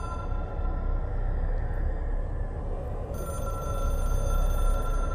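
A telephone rings inside the video game Control, holding steady and fairly loud over a low rumbling background hum for several seconds with no speech.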